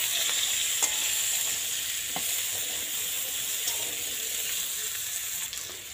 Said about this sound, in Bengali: হলুদ গুঁড়ো দেওয়ার পরে হলুদটা কিন্তু ভালোভাবে মিশিয়ে নিন